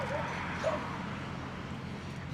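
Dogs bark and yip at a new dog run on a Brooklyn street in New York City, the barks sounding faint and distant beneath steady outdoor city noise.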